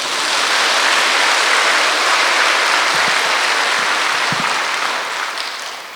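Sustained applause from a large audience fills the space, a dense steady roar of clapping that slowly fades toward the end.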